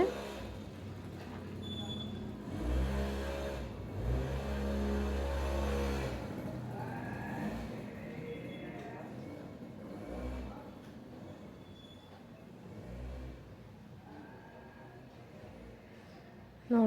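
An electric sewing machine stitches the lining fabric of a chudidar top. Its motor whirs close by in one long run of several seconds, followed by shorter bursts, while someone talks in between.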